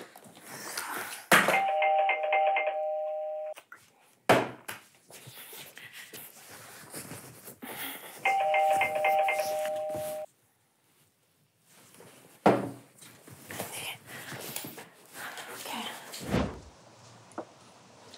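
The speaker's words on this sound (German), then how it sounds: "Bei dem Klingeln wäre ich schon längst wach geworden." A doorbell rings twice at a front door, each time a sustained electronic chime lasting about two seconds, with thumps, door and cupboard-like knocks and brief voices between the rings.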